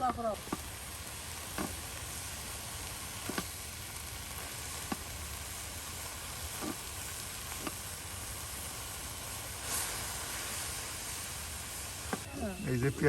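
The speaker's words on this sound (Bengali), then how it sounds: "এখন উলট পালট করে নেওয়া হচ্ছে" Onion and bottle gourd leaves sizzle steadily in a pan, with a spatula tossing them in periodic scraping strokes over a constant hiss; faint voices sit in the background.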